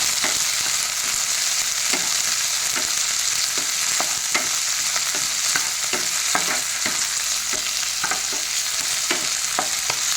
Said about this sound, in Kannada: ಪುದೀನ, ಕೊತ್ತಂಬರಿ ಸೊಪ್ಪು, ಮೆಂತ್ಯ ಸೊಪ್ಪು 3 ಹಾಕಿ ಹುರಿಯಿರಿ.